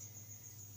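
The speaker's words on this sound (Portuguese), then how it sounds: "Tá fazendo um barulho da moléstia. Um grilo." A cricket chirps at night with a continuous high, thin trill that stays faint and steady, alongside a low hum and no talking.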